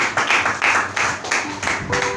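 Congregation applause in a church, a strong wave of clapping from many people with rhythmic surges, a few faint voices mixed in near the end.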